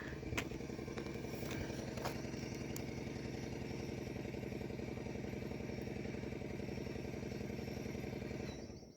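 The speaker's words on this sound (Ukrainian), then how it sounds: "почув пускач ганяє, а він не заводиться" Tractor starter motor cranking steadily for about nine seconds while the engine fails to catch, a loud, continuous rhythmic mechanical churning with clatter on top, close by and with no talking.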